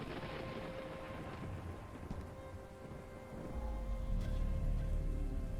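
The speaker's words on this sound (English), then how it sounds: "Still Paris. Still in the rain." Steady rain falling on a Paris street in the game Gibbous, a continuous hiss of drops on surfaces with a low wind rumble swelling toward the end, with no voices over it.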